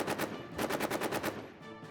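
Machine gun in the World War trench video game All Quiet in the Trenches fires in a loud, continuous rattling burst of rapid shots that tapers slightly near the end, with no talking.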